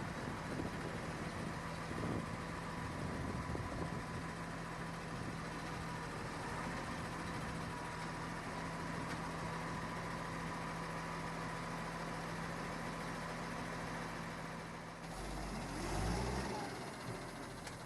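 A KhTZ-248K tractor engine idles steadily throughout, a constant low hum with a droning tone, close and continuous, followed by a brief louder disturbance near the end.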